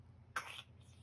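A child's single short cough, faint and brief, against a quiet low hum.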